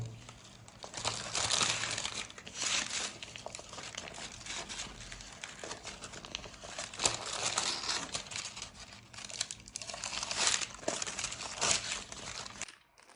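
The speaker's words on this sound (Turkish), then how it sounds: "Şimdi bu şekilde rulo sarıyorum." Dried cherry fruit leather rolled up on baking paper, producing a long stretch of close crinkling and rustling in uneven bursts that swell and fade, without any voices.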